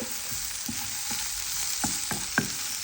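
Spinach and potatoes frying in a pan give a soft continuous sizzle, with a series of light scraping stirs that come faster toward the end, close and fairly quiet with no voices.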